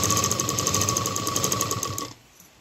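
A sewing machine runs a fast, even stitching rattle along a fabric seam of a small dholki bag for about two seconds, then stops abruptly, leaving near silence.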